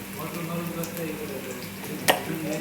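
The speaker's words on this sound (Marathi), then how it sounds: "आता आपण हे सगळं फ्राय करून घेऊ" Turmeric, red chili powder, garam masala and salt fry in a pan for vatana batata bhaji. The sizzling is soft and steady, with a single brief clink of a utensil.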